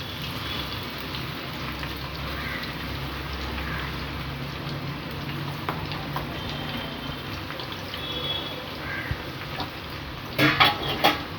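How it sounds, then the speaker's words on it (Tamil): Papad fries in hot oil, giving a steady crackling sizzle that runs on with occasional sharper pops, then a burst of louder clatter near the end as the pieces are stirred or lifted; no one speaks. "கொஞ்சம் எண்ணெயில் போட்டு பொரிச்சு வச்சிடலாம்."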